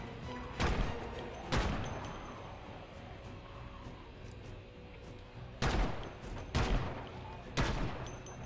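A .44 revolver fires in a video game. Five loud, sharp shots ring out at uneven intervals: two close together, a long pause, then three more. A faint ambient hum sits underneath.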